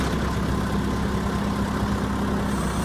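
A tractor engine idles steadily nearby, a constant low, chugging drone with no pauses or voices.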